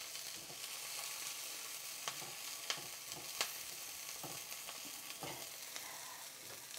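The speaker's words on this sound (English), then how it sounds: "Let's just give that a quick stir." Food frying quietly in a pan with black beans and ground beef nearby, a soft continuous sizzle punctuated by several light scrapes and taps of a spoon stirring.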